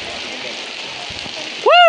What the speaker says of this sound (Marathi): बेकार म्हणजे बेकार पाऊस पडताकडे